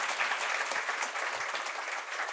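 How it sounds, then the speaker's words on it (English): Brief, even applause from an audience at a college welcome event, dense clapping at moderate volume that holds steady for a couple of seconds with no voices. "Please give them a hand of applause."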